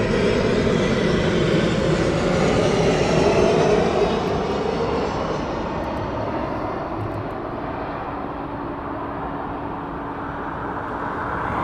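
A jet aircraft comes in to land at East Midlands Airport at night, on runway 09, a loud sustained broadband engine roar that slowly eases in intensity across the whole stretch, with no talking.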